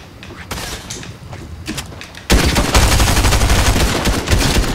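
Video game shootout gunfire: quiet rattling bursts at first, then a sudden, sustained, loud barrage of rapid automatic fire that continues to the end.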